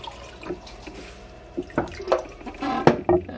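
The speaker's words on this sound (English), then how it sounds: "So, let's get 2 cups of water into this." Water poured from a measuring cup into a cooking pot for an induction cooktop test, irregular splashes and trickles with a few louder gushes toward the end, close and fairly quiet.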